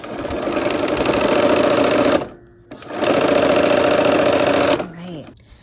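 A sewing machine stitches quilt pieces for a Christmas block-of-the-month quilt, whirring loudly and steadily in two long runs separated by a short pause, then slowing to a stop.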